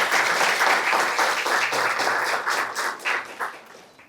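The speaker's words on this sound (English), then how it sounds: "I would expect a round of applause." Audience applause at a city-transformation conference session in Guelph, Canada: a dense, steady burst of many clapping hands that thins out and fades over about four seconds.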